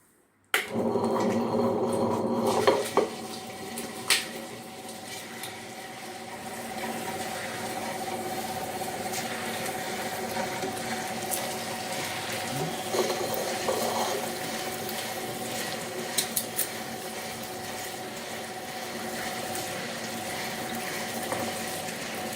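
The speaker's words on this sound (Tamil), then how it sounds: "இப்போ நம்ம அடைக்க அரைக்க போகிறோம் கிரைண்டரில்" Wet grinder churning soaked lentils for adai batter, a steady, continuous whirring and sloshing grind that starts abruptly and runs unbroken at an even level throughout.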